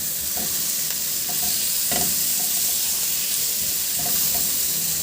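Onion and tomato sauté with chicken in a hot pan, giving a steady, close sizzle with occasional stirring scrapes and clinks throughout, and no talking.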